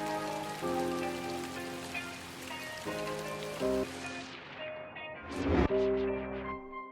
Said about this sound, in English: I'm going to use this rain sample here.